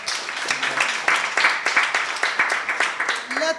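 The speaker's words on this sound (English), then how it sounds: "Ladies and gentlemen, please let's clap for the panelists." Audience applause for the panelists at a science forum, a scattered clapping of many hands in a hall, moderately loud, with a voice briefly heard near the end.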